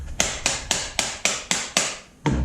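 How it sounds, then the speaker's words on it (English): Hammer blows driving a piece onto the mast of a homemade tape measure 6 m three-element yagi antenna, seven sharp evenly spaced strikes about a third of a second apart, close and loud with no talk. "So we're gonna put this in, give it a nice hammering."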